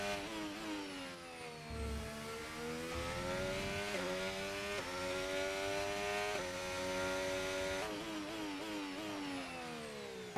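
A Formula 1 racing car in a video game at the Japan circuit, its engine note sweeping down under heavy braking and climbing again, loud and continuous throughout with no voices over it.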